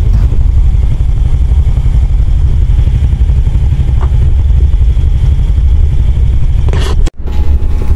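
A motorcycle engine idles loudly and steadily at close range while being parked at a night spearfishing spot, its low rumble continuing evenly before cutting off abruptly near the end.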